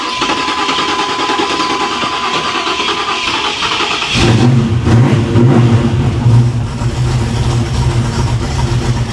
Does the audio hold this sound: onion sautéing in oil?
no